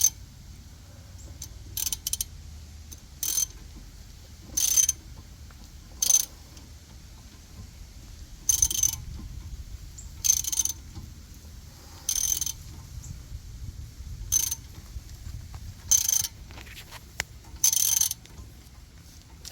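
A ratchet wrench clicks in short, repeated bursts while tightening brake caliper bolts on a 2006-13 Suzuki SX4 front brake, each rapid ratcheting spell separated by quiet pauses over a faint low background hum.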